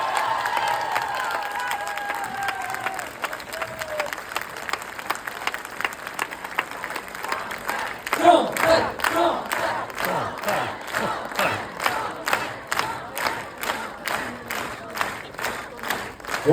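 A cinema audience at a film premiere at Kinepolis Lomme applauds and cheers. Loud, continuous clapping with crowd shouting builds and then settles into synchronized rhythmic clapping, with a faint voice underneath at the start.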